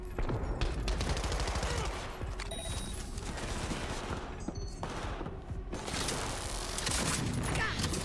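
Rapid gunfire from the video game Cyberpunk 2077 rattles in dense automatic bursts with brief pauses, fairly quiet overall and continuous over about eight seconds.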